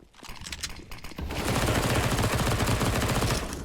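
Rapid SMG gunfire in a competitive first-person shooter match: scattered shots at first, then a sustained, dense burst of automatic fire that stays loud to the end.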